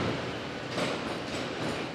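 A train rumbles and clatters at a busy station platform, producing a dense, loud, continuous roar of rolling wheels and carriages that fills the short stretch with no voices.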